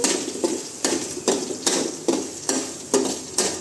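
Urad dal frying in a pan, with about nine regular scraping stirs of a spatula cutting through a soft sizzle, close and fairly loud, no voices.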